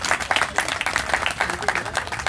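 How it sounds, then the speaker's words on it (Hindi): A crowd at a political gathering claps in a quick, uneven patter of separate hand claps. The sound is fairly faint and sparse, as if heard from a distance. "आप तमाम लोग एक बार तालियों की गड़गड़ाहट से उसका हर्षवर्धन"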